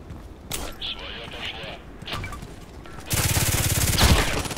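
Glock 18 fully automatic pistol fire in the online shooter Contract Wars, a brief burst early then a loud rapid sustained burst near the end, with game background noise between.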